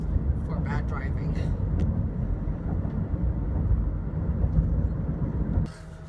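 A car drives along with a steady, loud road and engine rumble and cabin noise that drops away near the end, while a person talks over it.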